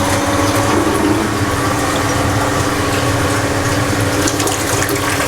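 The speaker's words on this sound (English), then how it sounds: "dump some of the water so that you can see how dirty it is" Dirty, rusty water dumped out of a home heating system during a plumbing job, a loud, steady rushing gush of liquid that keeps going without a break.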